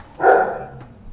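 A house dog gives a single loud, close bark in reaction to a car horn outside, followed by a short fading tail of room noise.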